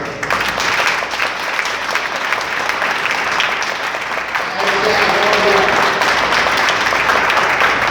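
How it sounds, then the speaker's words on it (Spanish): A church congregation gives a strong round of applause to the Lord, loud continuous crowd clapping that swells slightly midway, with faint voices mixed in. "Pero un fuerte aplauso al Señor."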